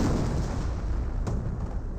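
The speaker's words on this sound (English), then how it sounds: "No, that had to be off-map artillery from the US player." Off-map artillery shells striking in a Company of Heroes match, a continuous rumbling barrage of explosions with a sharper impact crack midway, dense and loud throughout.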